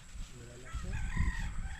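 A rooster crows briefly and faintly over a low rumble of background noise.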